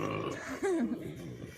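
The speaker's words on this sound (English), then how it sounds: "you can make your turkey burp by squeezing him" A live turkey with an air-inflated chest is squeezed and lets out a single short, low gurgling burp that rises and falls in pitch, heard up close over faint steady background noise.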